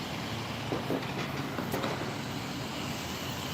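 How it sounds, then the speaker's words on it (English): A Metro Railway train passes in South Pasadena, a faint, distant low rumble with a few soft clicks of wheels on track. "This is the Metro Railway."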